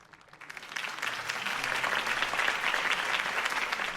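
A crowd applauding after Harvey Dent's campaign speech in Batman: The Telltale Game Series: a dense, steady roar of many clapping hands that swells in over the first second and then holds loud and even, with no talking.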